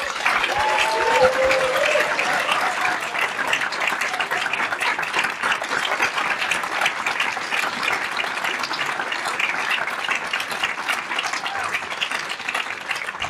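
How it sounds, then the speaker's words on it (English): Steady, sustained audience applause at an inaugural lecture, many hands clapping evenly for over ten seconds in a hall, with a brief voice near the start before the clapping carries on alone. "let's make a very big noise for Professor Robert Beckford by way of a round of applause."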